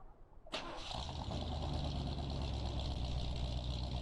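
A brief starter crank, then a pickup engine fires up and settles into a deep, steady idle rumble, close and continuous.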